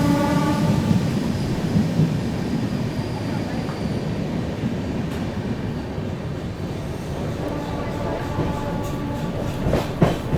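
The Bhubaneswar–Howrah Jan Shatabdi Express fills a station with a loud, steady rumble and clatter, close by, with faint voices in the background.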